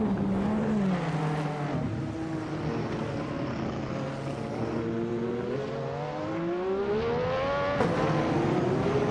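Engine of a Williams FW12 Formula One car in a racing video game, a continuous high whine rising and falling as it shifts through gears, with a sharp shift near the end.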